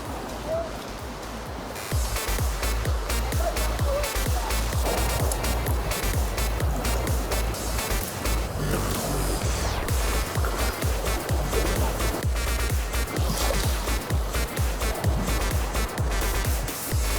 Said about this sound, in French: Il y a quelques vagues quand même